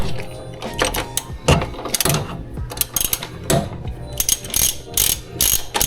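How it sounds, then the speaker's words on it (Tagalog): A 12mm socket wrench ratchets in repeated quick bursts of clicking, close and crisp, while loosening a part during a DIY coolant bypass on a Toyota RAV4 engine. "socket wrench."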